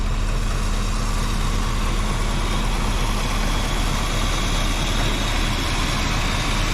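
A 1984 Jeep engine idles steadily and close by, a constant low rumble with an even, unbroken drone and no voices over it.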